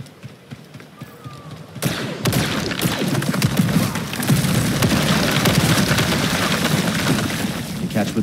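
Blaster fire in Star Wars Jedi Survivor, a dense rapid volley of sharp shots and thuds starting abruptly after a quiet opening and continuing loud and sustained to the end.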